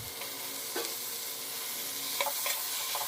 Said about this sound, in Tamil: நல்லா பொன்னிறமாகிற வரைக்கும் ஆனியனை வறுத்து எடுத்துடலாம்